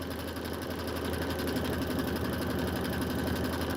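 An embroidery sewing machine stitching at full speed, 1050 stitches per minute, gives a steady, loud, rapid mechanical whirr and chatter that holds without pause throughout.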